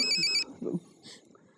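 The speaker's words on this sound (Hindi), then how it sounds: "अरे फोन बजा।" A mobile phone ringtone chimes briefly and loudly in a scene from a Hindi TV comedy, a bright electronic melody that cuts off after a moment, followed by a short thud and quiet room noise.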